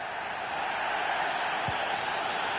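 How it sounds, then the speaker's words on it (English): A football video game stadium crowd roars steadily throughout, a broad, loud wash of massed voices with no individual talk standing out. "The crowd certainly think so. Just listen to that noise."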